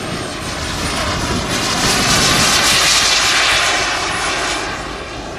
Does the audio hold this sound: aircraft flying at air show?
yes